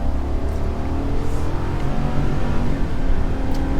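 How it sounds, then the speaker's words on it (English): A 2023 GMC Sierra 1500 Denali Ultimate pickup accelerates hard, its engine a steady, loud, continuous roar from start to finish, heard with no speech over it. "She gets up and moves for sure, especially for being a big truck."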